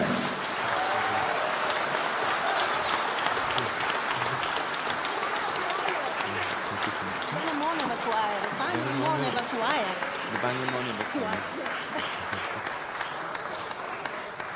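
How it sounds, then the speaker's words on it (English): Steady, sustained applause from a large crowd for a choir fills the whole stretch, with a few cheers and voices rising in the middle. "A huge round of applause, everyone"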